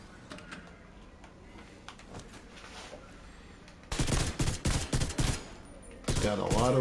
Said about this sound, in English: this is apparently the rarest exotic weapon. So let's give her a whirl.